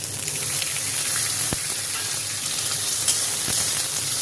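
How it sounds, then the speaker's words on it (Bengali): Chopped tomato hits a pan of browned onion and spices, producing a loud, continuous frying hiss with a couple of sharp clicks and no voices. "এবার এর মধ্যে টমেটো কুচিটা দিয়ে দেবো।"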